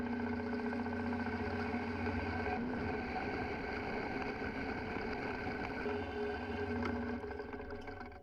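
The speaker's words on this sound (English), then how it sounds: "then go over to the bandsaw where we are going to cut it nice and square" A bandsaw cuts through round steel stock for an ATV snow plow conversion, a steady loud droning whine with a low hum running unbroken for about eight seconds, easing off at the end.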